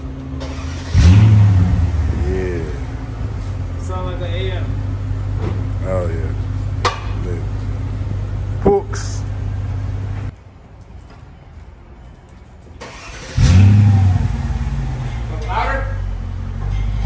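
A Mercedes-Benz W211 E500 with a muffler delete sounds a loud, deep engine rev near the start and again toward the end, with a steady idle rumble and talking in between.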